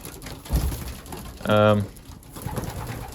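Young racing pigeons in an aviary loft give a single close, resonant coo midway, with soft rustling and low background noise around it.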